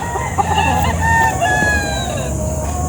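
Close, loud rooster sounds from a Boston brood cock among gamefowl, a drawn-out crow with clucking over a busy yard background, with no talk.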